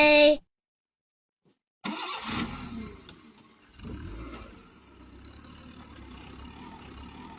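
A group's vehicle pulls up in Gujarat with a rising engine roar and rumble after a short silence, then settles into a steadier, quieter running drone nearby.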